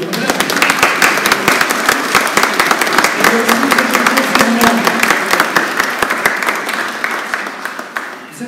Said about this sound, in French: Là, on peut applaudir.